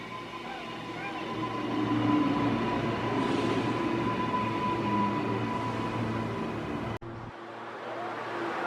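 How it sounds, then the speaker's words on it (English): Continuous low rumble and rolling rail noise of a Rosewood-line passenger train pulling into Ipswich station, with a steady hum and a brief dropout near the end. "here comes the train that we'll be boarding"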